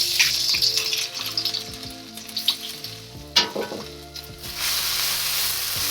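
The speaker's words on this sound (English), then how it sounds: "I'm going to drop in my chili and garlic mix." Chili and garlic mix hitting smoking-hot oil in a pan for Thai pad gra prow gai, a loud continuous sizzle with crackles and brief scraping stirs, close and steady with no talk.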